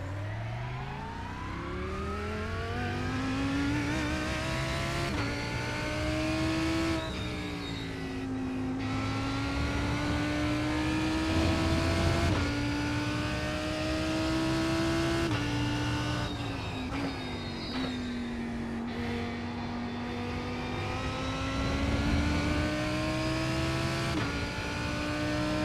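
Race car engines in a racing video game, a continuous high whining drone that rises and falls through gear changes, steady and loud for the whole stretch with no pauses.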